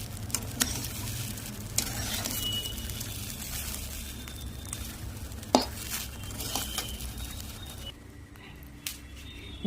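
Food sizzles in a pan while a utensil scrapes and clinks against the metal now and then, close up with no talking.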